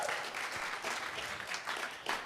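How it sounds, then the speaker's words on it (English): Congregation at a Sunday church service applauds, a fairly faint, even spatter of clapping lasting a couple of seconds. "So let's give him another round of applause."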